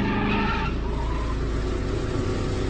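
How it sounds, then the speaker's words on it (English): A Toyota people carrier swings through a rapid U-turn, tyres skidding and squealing loudly at first before the screech fades into a steady engine rumble. "He simply turned the car rapidly in a U-turn,"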